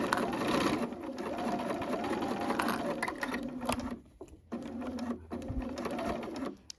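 A sewing machine stitches in reverse on a Sweety vest with a close, steady mechanical whirr and rapid needle clatter, then slows and briefly stops before running again.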